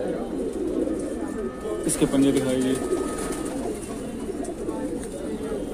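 Pigeons coo in a Bareilly loft, low soft calls running steadily under a man's nearby speech, with a brief stronger burst midway.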